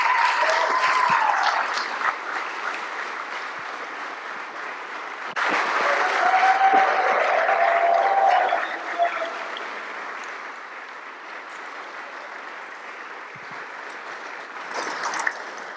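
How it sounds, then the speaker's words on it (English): Audience applause at a Greek-Australian event with the Australian Embassy as guests are brought up on stage, clapping that swells, dips and surges again, with some voices mixed in over the long stretch. "Let's have a huge round of applause."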